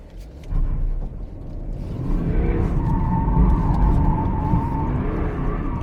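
A BMW 3 Series with traction control switched off revs up and pulls away hard, its engine note rising into a loud, sustained rumbling drone close by, with possible tyre scrabble.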